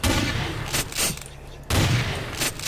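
A shotgun fires in a video game, with about three loud, sharp blasts spaced less than a second apart, each trailing off briefly before the next.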